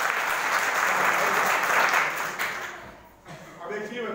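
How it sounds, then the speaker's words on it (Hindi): Audience applause at a school event, dense steady clapping filling the room for about three seconds, then fading and thinning out near the end. "चलो इनके लिए जोरदार ताली।"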